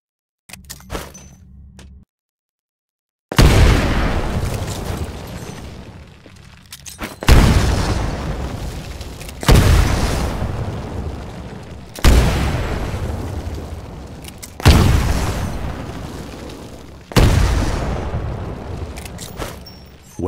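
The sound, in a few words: grenades exploding in windows, Titanfall video game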